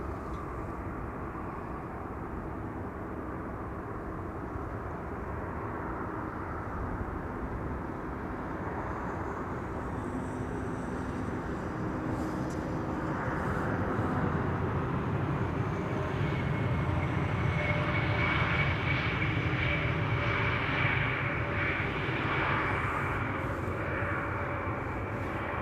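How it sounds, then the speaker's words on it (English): A KLM Embraer 175 airliner lands on runway 27 at Amsterdam Schiphol Airport, arriving from Stavanger. A steady, distant jet roar builds and grows louder through the second half, with no talking. "Embraer 175 is coming in to runway 27, KLM flight 1174,"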